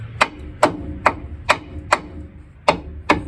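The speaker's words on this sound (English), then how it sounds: "We'll hit it a few times with the hammer to get her to bend." Seven sharp hammer blows on a car's metal part, bending it, ring out at a steady pace, one close metallic strike every half second or so.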